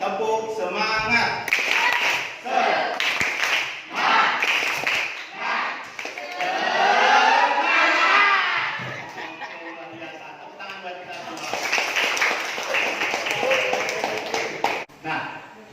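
A classroom performs the rhythmic 'tepuk semangat' group clap, bursts of patterned hand claps alternating with the class chanting together, lively and close.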